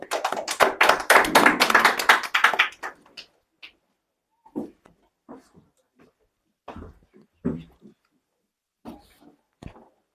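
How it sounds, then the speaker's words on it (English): A school audience claps for a speaker in a short, dense burst of many hands lasting about three seconds, then fades to scattered soft taps and brief quiet sounds. "Please clap for him."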